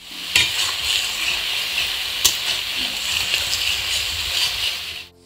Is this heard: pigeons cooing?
no